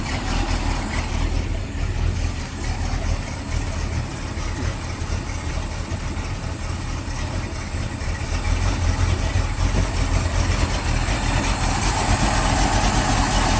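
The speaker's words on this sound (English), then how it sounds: "So right now it's running a little rough because it's got all the oil and the plugs and everything." A 1998 Sea Ray 190 Signature Bow Rider boat engine idles roughly just after its first start of the season, a continuous, loud, uneven rumble lasting throughout with no talking.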